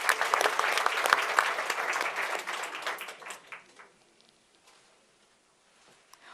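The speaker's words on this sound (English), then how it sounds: "Please give the professor a warm round of applause" Warm round of applause from an audience at a book launch panel event, a dense crowd clapping that stays steady for a few seconds, then thins out and fades to scattered claps and near silence.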